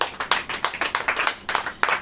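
An audience claps together at a Hindi church sermon, a burst of steady, fairly close applause with quick overlapping hand strikes and a few stronger accents, with no talking over it.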